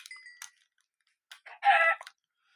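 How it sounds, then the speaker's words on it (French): A Minecraft chicken gives a few short clucking calls, with a louder, denser burst near the end; close and clear against an otherwise silent background. "Oh, le poulet."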